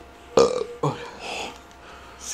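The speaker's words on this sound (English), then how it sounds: "Just keep fucking burping" Person burping twice in close succession, loud and near, followed by faint background noise.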